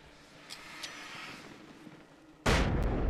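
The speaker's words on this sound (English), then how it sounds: "Oh, flash banged them." Flashbang blast and gunfire in the video game Alan Wake: two faint sharp cracks early, then a loud sudden burst that stays dense and harsh to the end.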